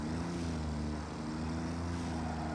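A tractor in Satisfactory drones with a steady, buzzing engine hum at moderate level, unbroken and without speech.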